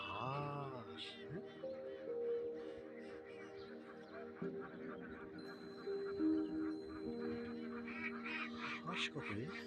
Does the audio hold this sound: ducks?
yes